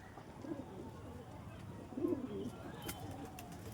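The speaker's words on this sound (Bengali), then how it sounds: "এই যে একটা পায়রা নেমেছে" Pigeons kept by a hobbyist, a male having just landed, give soft low coos near the middle of the clip over steady outdoor background noise; no clear wing flapping stands out.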